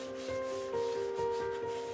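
A hand rubs and smooths acrylic paint across a canvas during a three-color Dutch pour, giving a soft, steady rubbing swish with gentle repeated strokes, close and fairly quiet, with no talking.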